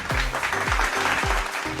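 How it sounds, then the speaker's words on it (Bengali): Steady applause from a studio audience at a Bengali television game show fills the whole stretch, a dense even clatter of clapping hands with low thumping beats recurring beneath it. "একবার জোরে হাততালি আমাদের তৃতীয় জুটির জন্য"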